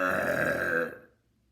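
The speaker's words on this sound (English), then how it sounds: "the loudest burp you've ever heard" A single loud, drawn-out burp rumbles for nearly a second, then cuts off into silence.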